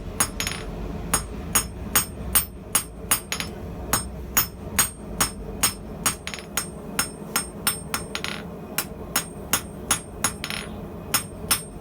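A blacksmith draws out and squares the shank of a forged nail with a hammer on an anvil. The sharp metallic strikes fall in a steady, fairly quick rhythm, mostly in pairs, with a low background rumble.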